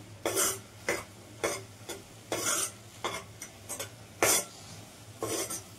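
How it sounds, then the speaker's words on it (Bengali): Semolina mixture scraped and stirred in a pan as its water cooks off, with repeated bursts of spoon-on-pan scraping about every half second and a faint low hum beneath, no talking. "এইভাবে নাড়াচাড়া করে শুকনো করে নিতে হবে জলটাকে।"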